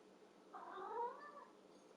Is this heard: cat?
yes